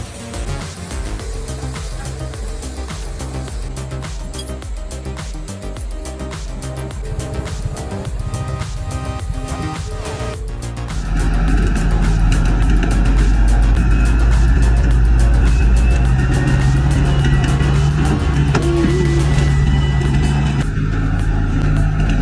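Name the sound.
engine of Xaxis 210F wood truck in forest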